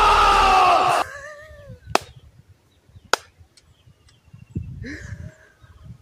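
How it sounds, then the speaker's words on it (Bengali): A preacher at an Islamic sermon claps his hands twice, two sharp isolated cracks about a second apart, after a brief loud burst of voices and then near silence. "সরি, এইভাবে তালি দেওয়াটা আমার ভুল হয়েছে"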